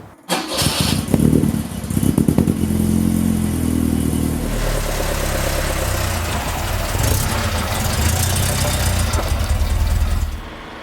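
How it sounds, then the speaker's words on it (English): A classic Alfa Romeo cruising on a countryside drive, its engine and exhaust giving a loud, close, continuous burble. The pitch rises and falls with throttle changes and no voices are heard. "The classic Alpha burble out of the exhaust"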